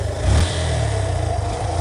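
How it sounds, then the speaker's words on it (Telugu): A scooter engine in a spooky night-road scene gives a steady low hum with a brief rev near the start, close and fairly loud, with no voices. "అప్పుడు స్కూటీ ఇంజన్ సౌండ్ వింతగా వచ్చింది"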